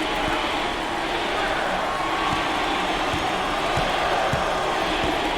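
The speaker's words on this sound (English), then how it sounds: "The crowd starting to chant" Home crowd at an Illinois vs Iowa Big Ten college basketball game, a dense steady roar of voices building into a chant, with faint ball bounces and court thuds beneath, continuous and close throughout.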